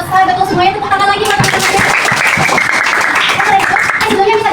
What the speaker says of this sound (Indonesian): Oke, udah selesai. Betul semuanya, tepuk tangan lagi.